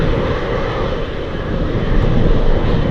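A Hercules aircraft on approach roars overhead with a loud, steady, broadband drone that swells slightly toward the end, with no talking.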